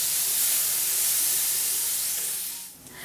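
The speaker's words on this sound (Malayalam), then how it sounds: "സവാളയും ചേർത്ത് കൊടുത്ത ശേഷം നല്ല രീതിക്ക് തന്നെ ഇതെല്ലാം കൂടി ഒന്ന് വഴറ്റി കൊടുക്കാം" Onions sautéing in a pan for Kerala-style egg gravy give a steady, loud, close hiss that fades a little near the end, with no talking.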